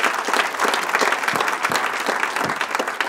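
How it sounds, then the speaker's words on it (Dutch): Steady applause from a studio audience at a local business showcase in Venray, dense overlapping clapping held at an even level throughout with no talk over it. "daarvoor al een heel mooi applaus"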